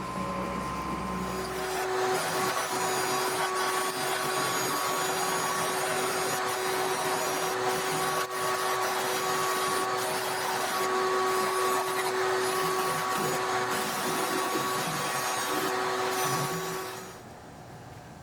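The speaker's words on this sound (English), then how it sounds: "So we're going to sand this out just a little bit" A power sander grinds steadily while smoothing the edge of a fitted aircraft engine cowling, a loud continuous whine with a steady tone that runs close and alone for most of the time before winding down near the end.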